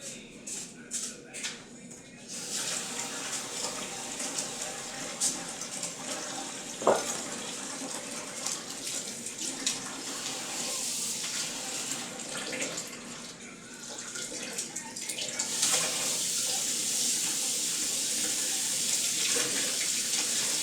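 Steady hiss of warm tap water running into a sink, continuous for the whole stretch and growing a bit louder and brighter toward the end.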